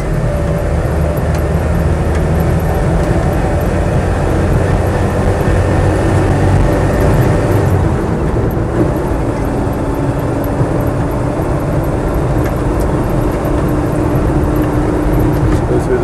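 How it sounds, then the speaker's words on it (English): A Land Rover Series III 88-inch truck cab on the move, its engine misfiring slightly, gives a steady loud rumble of engine and road noise that runs unbroken throughout. "It is misfiring slightly, in fact, because of that advanced retard pipe."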